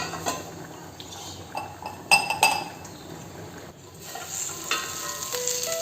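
Okra (bhendi) sizzles steadily in a hot pan for masala bhendi, with a spatula scraping and stirring and sharp metallic clinks at intervals, close and fairly loud with no voices.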